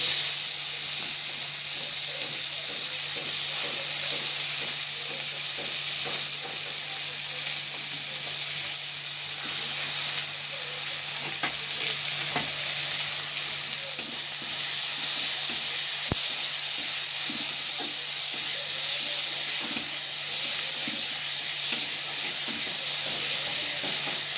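Chopped tomatoes sizzling in hot mustard oil with fried garlic and onion, producing a loud, steady frying hiss throughout, close up with occasional faint stirring clicks and no talking.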